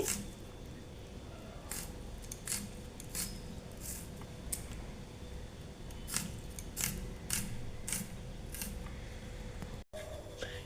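Onion is chopped finely with a knife on a board, a series of quiet, sharp strokes spaced irregularly over a low background hum.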